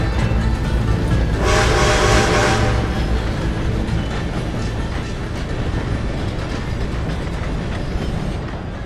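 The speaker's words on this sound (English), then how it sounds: "Oh, I hear a train." A train rolls past in Red Dead Redemption 2, a loud, dense rumble and clatter of rail cars, with a brighter burst of noise early on before settling into a steady heavy roar.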